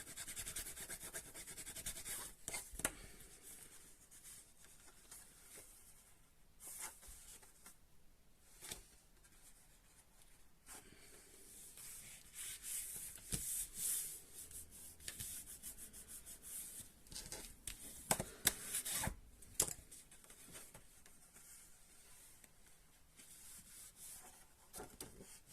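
Paper being rubbed firmly along fold lines on a handmade pop-up photo card, a quiet dry scraping and swishing that comes in irregular strokes and bursts, close by with no talking.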